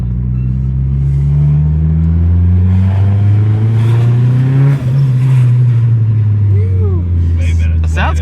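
A turbocharged Mitsubishi Evo's engine revs loudly and up close, its pitch rising and falling in a strong droning growl while people talk over it.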